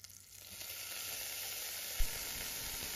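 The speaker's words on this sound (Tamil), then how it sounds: "ஆயில், கார்லிக் இதை சேர்த்து நல்லா சாட்டே பண்ணிக்கோங்க." Garlic sautéing in oil in a pan gives a steady, soft close sizzle that builds after a quiet start, with one brief knock of a utensil near the two-second mark.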